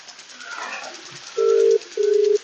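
Electronic call-progress tones from a mobile-phone-operated water pump motor controller used for irrigating farm plantations: two long, steady, loud beeps in succession, following a brief stretch of faint background talk.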